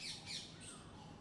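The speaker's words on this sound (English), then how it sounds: "Even Kalia, the crow with the bent wing, with whom no one used to play, learned to fly up in the sky" A crow gives a couple of faint, harsh squawks against a quiet background, brief and somewhat distant.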